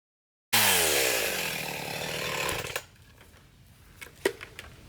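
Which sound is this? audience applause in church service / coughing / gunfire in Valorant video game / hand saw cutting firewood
hand saw cutting firewood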